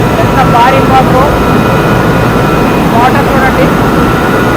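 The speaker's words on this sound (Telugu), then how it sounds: "చూడండి మోటారు ఎంత భారీ మోటార్" A huge pump motor running inside the Mission Bhagiratha intake-well pump house at Kummarigudem. It makes a loud, steady, low droning roar that fills the room, with someone talking over it.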